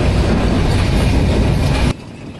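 Padma Express from Dhaka to Rajshahi running at speed, a loud, dense rolling roar of carriages on the rails that cuts off abruptly near the end, with no talk.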